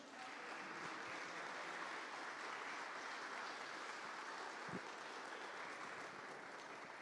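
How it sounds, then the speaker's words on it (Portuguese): A congregation claps steadily together, a dense, continuous wash of applause that holds at an even level from start to finish. "Fique de pé, aplauda o Senhor em nome de Jesus."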